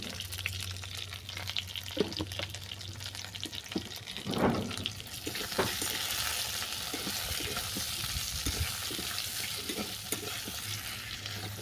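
Drumstick-leaf sukto being stirred in a pan after salt and sugar go in, a steady low sizzle with scattered scraping and clinking of the spoon throughout, moderately close and without talk.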